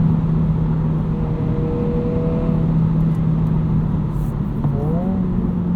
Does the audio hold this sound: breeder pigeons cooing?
no